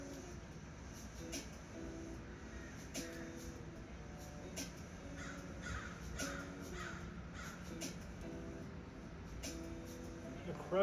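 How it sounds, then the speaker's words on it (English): Crows caw repeatedly outdoors near a balcony, their harsh calls coming in irregular bursts at moderate distance over a steady low background rumble. "The crows seem to be enjoying the day, as they should."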